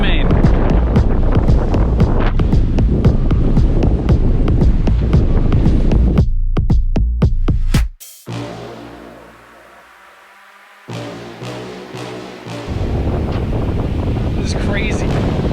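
Loud wind gusting 27 to 28 knots buffets the microphone on a Gemini catamaran in the Sea of Cortez, roaring and flapping, then briefly drops to a quieter lull before the heavy gusts return.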